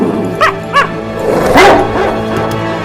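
Patch, a Dalmatian puppy in an animated film, gives two short yips followed by a bigger, more forceful bark over a low musical score, close and loud.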